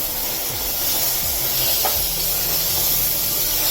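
Mutton kheema sizzles in hot oil in a pan, a loud steady hiss filling the whole stretch with a few faint scraping sweeps underneath.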